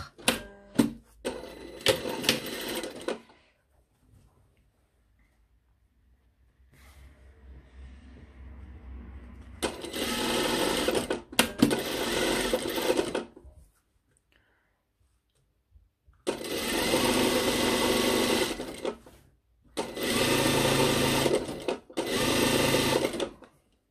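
A sewing machine stitches the side seams of a lined cranberry jacket in several loud bursts of rapid mechanical whirring, separated by pauses filled with faint handling noise and a quiet stretch.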